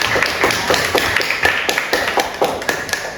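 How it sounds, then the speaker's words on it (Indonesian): A small classroom group claps for two presenting student groups, with distinct, close, somewhat uneven hand claps in a loose rhythm and no talking over them. "Tepuk tangan untuk dua kelompok."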